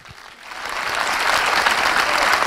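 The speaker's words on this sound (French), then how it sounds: "Applaudissements, mesdames et messieurs, bravo." An awards-evening audience at a trophy ceremony in Lons-le-Saunier breaks into applause, starting thinly and swelling within the first second into a dense, steady clapping that carries on to the end.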